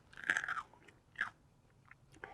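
A dog crunches on a piece of raw potato, with a few crisp bites in an irregular rhythm, close and fairly quiet, with no talking.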